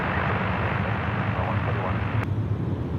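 Airplane taking off at Sydney Airport, a continuous broad roar of engine noise heard from a distance, with a faint radio-like hiss over it.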